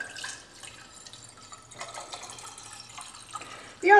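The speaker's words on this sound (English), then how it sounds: "I'm going to fill up this center container with water." Tap water runs into a center container for a flower show arrangement, a soft steady trickle and splash with faint sink-like rushing, building to a louder, brighter gush of pouring near the end.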